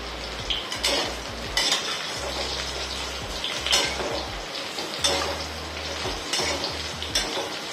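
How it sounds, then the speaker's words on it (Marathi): Bitter gourd being sautéed in a spoonful of oil in a pan, a steady sizzle broken by repeated scraping and clanking stirs of a spoon against the pan, close and with no talking. "आधी आपल्याला कारले असे परतवून घ्यायचे."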